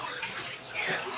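Water running steadily, a continuous splashing hiss like a filling basin or tub, with faint voices in the background.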